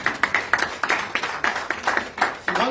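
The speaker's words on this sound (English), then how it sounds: "Give yourself a round of applause." A small audience gives a short round of applause at a personal transformation seminar, scattered hand claps at moderate distance, fairly quiet and with no speech over them.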